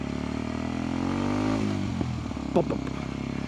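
A small motorcycle engine drones steadily, then drops off throttle and gives a few crackling exhaust pops near the end.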